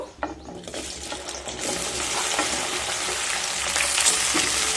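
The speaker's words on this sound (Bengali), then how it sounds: "হাই ফ্লেমে ভেন্ডিগুলোকে ভেজে নেব।" Okra frying in hot white oil in a kadai over a high flame, a loud, steady sizzle with bursts of crackle that builds and holds throughout, with no voices.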